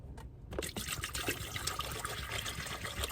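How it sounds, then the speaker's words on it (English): Water pours and splashes into a collapsible bucket inside a van, a steady, close trickling that runs for a few seconds after a brief quiet start, with no one talking. "I put some water in it."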